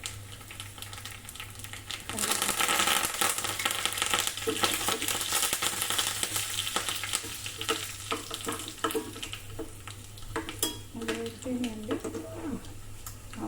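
Green chillies hit hot oil in a pan, and after a quiet moment a loud, steady crackling sizzle bursts in and continues close by, with soft stirring clicks.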